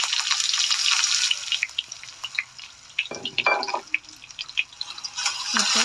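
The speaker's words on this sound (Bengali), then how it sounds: "এখন আমি সয়াবিনটা ভালো করে ভেজে নেবো" Marinated soybeans hiss and spit in hot oil in a wok, a steady bright sizzle with scattered pops and a brief clatter of stirring midway, with no talking.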